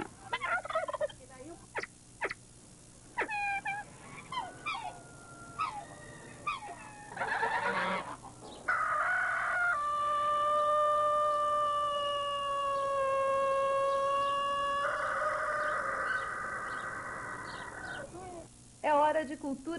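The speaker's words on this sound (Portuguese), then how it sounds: "a criação de Dona Aparecida tem hoje cerca de 200 aves, o que transforma o local em um palco constante de uma sinfonia um pouco diferente." Around 200 farm birds calling together, including turkeys gobbling and geese honking, with a series of distinct, fairly close calls and long honking tones following one another.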